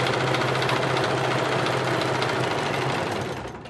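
Sewing machine running steadily while stitching a long dress with puffed sleeves, a loud continuous motor whir with rapid needle chatter that holds throughout and eases off slightly at the end.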